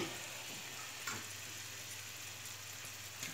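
Vegan leftovers with tofu sausages frying in a pan, a faint, steady crackling sizzle with a couple of soft stirring scrapes, heard alone.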